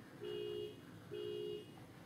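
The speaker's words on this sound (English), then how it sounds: "It was a car alarm." A car alarm sounds outside as two identical steady electronic tones, each about half a second long, faint and distant against a quiet room.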